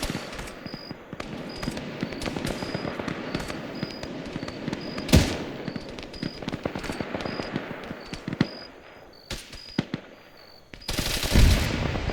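Repeated bursts of automatic gunfire in a military video game mission, steady close-range rattling that runs through the whole stretch, with sharper loud blasts around the middle and near the end.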